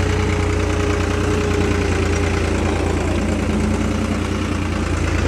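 A New Holland 3630 tractor engine runs steadily nearby with a loud, constant low rumble and faint knocking vibration, no voices heard.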